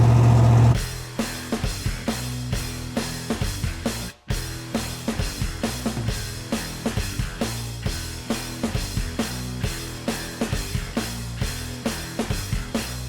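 Rebuilt 1984 Chevy 350 V8 powering a real-life Halo Warthog replica, idling in a loud, steady rhythmic chug with regular pulses, briefly cutting out before resuming close by.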